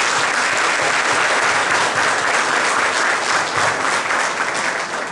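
A crowd applauds during the swearing-in of city councillors, mayor and vice mayor at the Marataízes municipal chamber, loud dense continuous clapping that holds steady throughout.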